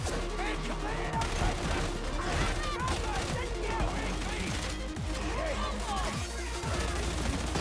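Rapid automatic gunfire from a Hive Scum character in Darktide, a dense, continuous loud stream of shots with crashes and impacts, combat noise layered throughout.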